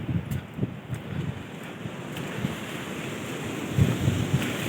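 Waves wash steadily against a rocky shore by a large hill in Ratnagiri, a continuous low roar with occasional swells, mixed with gusty wind rumbling on the microphone.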